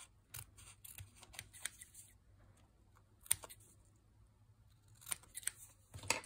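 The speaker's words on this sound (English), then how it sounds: "there's a few spots over here that just need trimming up to get our line" Scissors snipping card paper to straighten its edge while making a Christmas card, a few quiet, sparse cuts with short crisp clicks scattered over a faint, near-silent background.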